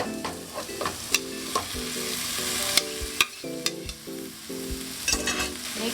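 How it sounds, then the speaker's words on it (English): Star anise sautéing with aromatics in a pan makes a continuous sizzle, with a utensil repeatedly scraping and clinking against the pan in an irregular rhythm, close and alone. "So I'm gonna saute this with the aromatics that we have."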